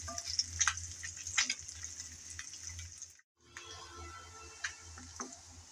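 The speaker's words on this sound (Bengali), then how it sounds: "উল্টিয়ে পাল্টিয়ে আমি দুটোটা সাইড ভেজে নিলাম" Small sea fish (faisa) frying in a pan, a soft steady sizzle with occasional crackles and light taps of the fish being turned, one brief dropout midway, no talking.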